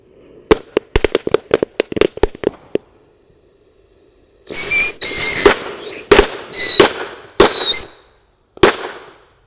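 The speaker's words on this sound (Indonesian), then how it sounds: "Selanjutnya kita nyalakan mercon roket minitor." Minitor rocket firecrackers lit underground crackle in a rapid string of sharp pops, then several loud, sustained whistling-hissing bursts of burning rocket fuel follow, close and harsh.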